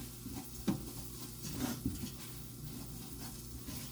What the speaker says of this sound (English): And then I'm just going to give that a stir.